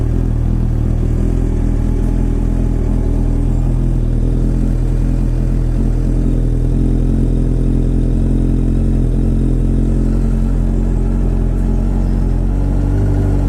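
Motorcycle engine fitted with new forks and bar-end mirrors fires up and idles steadily, a loud, close, continuous rumble with slight clatter and no talk over it, on a chilly morning.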